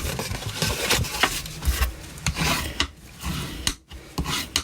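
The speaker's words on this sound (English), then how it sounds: "use your bone folder. So fold them all over and give them a good burnish on both." A bone folder burnishes folded cardstock for a pop-up cube card in repeated rasping, rubbing strokes, fairly quiet and close, with short pauses between passes and no voices.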